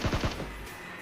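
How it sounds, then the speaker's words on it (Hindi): Enemy gunfire in a mobile battle royale game, a quick burst of three or four rapid shots at the start followed by a fading tail. "बंदे देखो भाई घर की तरफ से कितना गंदा फायर मार रहे हैं"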